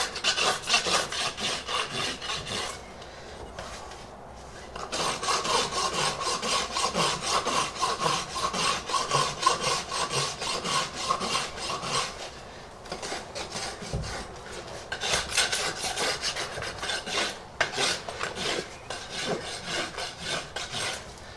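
A hoof rasp files a bevel onto the edge of a barefoot Friesian horse's hoof. Close, loud rhythmic rasping strokes come in long bursts separated by short pauses.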